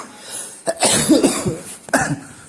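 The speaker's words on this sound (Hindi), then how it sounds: "इनको खांसी भी आ जाती है" A person coughs a few times in close, harsh bursts, with a throat-clearing quality, then a short pause and one more cough near the end.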